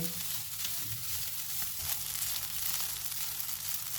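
One and a half teaspoons of flour roast in a pan with a chicken mixture for chicken bread pakora. A steady, even sizzle holds throughout with no voices.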